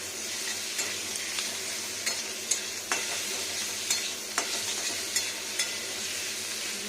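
Potatoes and green chilli fry in a pan with a constant, gentle sizzle while a utensil stirs and taps against the metal in scattered clicks. The frying sits up close at moderate volume, with no voices.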